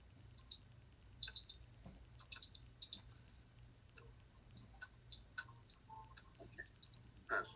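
A pair of d20 dice rattle and tumble across a table during a tabletop role-playing session, giving faint, scattered clicks and ticks that come in short bursts, with no talk over them.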